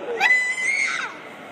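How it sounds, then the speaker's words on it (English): One high-pitched scream comes from a person in a classroom setting. It rises sharply, holds a steady piercing tone for under a second, then fades, close and loud with no other sound. "or I might scream!"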